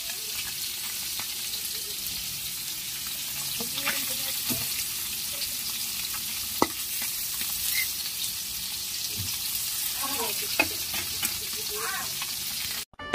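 Onion, tomato and garlic sizzle in oil in a pan. The frying hiss is broad and constant throughout, with occasional stirring scrapes and a few faint clicks close by.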